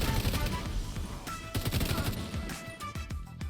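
Rapid gunfire from The Division 2 during a ReAnimated event, loud bursts of automatic shots with sharp repeated cracks packed closely over a few seconds, near and dominant.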